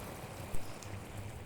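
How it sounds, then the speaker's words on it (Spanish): Paella rice sizzling and crackling in the pan once the broth has evaporated, a steady dense patter like light rain, close and moderately loud throughout with no voices. "es el que digamos que se llama lluvia."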